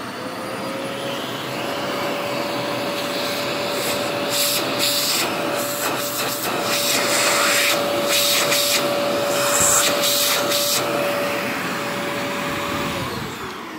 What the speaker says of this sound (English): So I'll turn it on, put my hand over the end, kind of tell you what the suction and airflow is like.